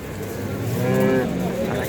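A cow moos at a busy livestock bazaar in Shahrikhon, one long, loud, drawn-out bellow that swells and fades over steady market background noise.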